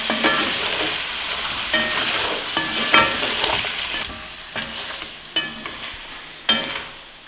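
Dry spices, turmeric and salt being stirred in a hot pan, giving a steady soft sizzle broken by several sharp scrapes and taps of the spoon against the metal, close and alone.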